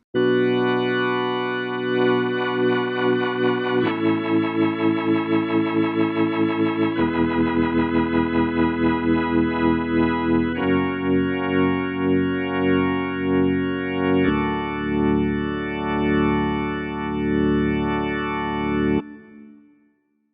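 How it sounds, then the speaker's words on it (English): Floyd Keys Deluxe organ patch played through a Leslie rotating speaker, sustained chords in several blocks with a fast swirling tremolo throbbing through each, ending abruptly near twenty seconds. "this is what the Leslie sounds like"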